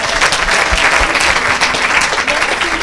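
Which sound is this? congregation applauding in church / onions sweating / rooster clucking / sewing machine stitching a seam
congregation applauding in church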